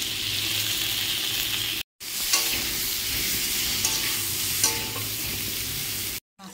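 Kanduli fish curry with salt, turmeric and cumin powder sizzling steadily in a pan while a spoon stirs and scrapes through it, close and continuous with a couple of brief cut-outs.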